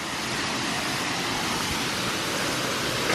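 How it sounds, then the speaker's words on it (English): Steady, loud broadband rushing of a waterfall near Rajaklana Resort, a constant dense roar with no pauses and no voices. "look at the waterfall right there"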